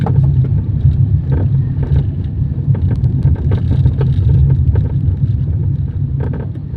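Heavy traffic on a road in Ortigas, heard from inside a truck: a steady low engine and road rumble with soft intermittent knocks, continuous and close.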